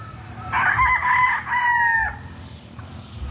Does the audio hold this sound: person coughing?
no